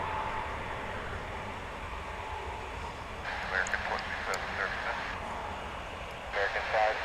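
A Viva Aerobus airliner departs from DFW airport, its engine roar rising in the distance and growing louder, with a radio voice talking over it.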